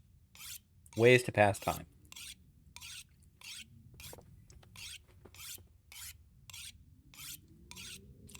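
Tool sharpening in the survival video game The Long Dark: a steady series of close rasping file strokes repeats evenly for several seconds, following a short burst of speech at the start.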